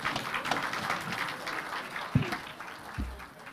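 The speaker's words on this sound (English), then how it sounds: "let us give the two party leaders a hand of applause." Moderate applause rises from members at a parliamentary group meeting for the two party leaders, a continuous patter with a couple of louder thumps near the end.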